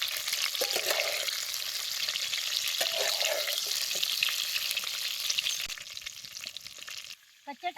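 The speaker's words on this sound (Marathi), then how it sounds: "आता या तेलात ही भरून घेतलेले टमाटो आधी जरा भाजून घ्यायची" Stuffed raw green tomatoes fry in hot oil on a wood-fired clay stove, a close, dense sizzle with scraping turns that fades and drops away near the end, with no talk.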